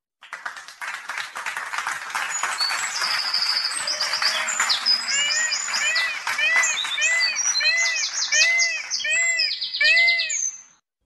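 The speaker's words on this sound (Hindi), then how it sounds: "कुछ और आगे एक बड़ा सा पिंजरा था, उसमें बहुत सी चिड़िया थी।" A dense chorus of many small birds chirping and tweeting in a large cage, with bright repeated calls and trills layered continuously and close by throughout.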